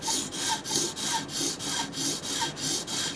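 An OTF knife blade stroked back and forth across a sharpening stone, a close rhythmic rasp repeating about seven times at an even pace, no voices.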